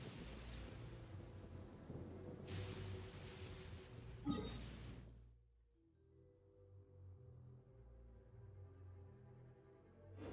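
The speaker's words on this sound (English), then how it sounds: "Let's find shelter from the rain." Deep thunder rumbles over heavy, hissing rain in a video game storm. The roar drops off sharply about halfway through, leaving a quieter bed of rain and low ambience.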